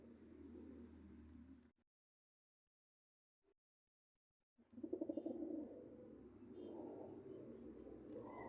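Pigeons coo in low, soft murmuring bursts beside steady background noise, broken by a couple of seconds of near silence before the cooing resumes, fairly close and moderate in level.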